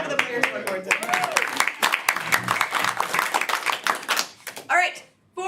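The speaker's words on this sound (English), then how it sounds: "clap for the players one more time" An audience at a live game show event claps for the players in a dense burst that rises and then fades out, with a host's voice cutting in over the applause.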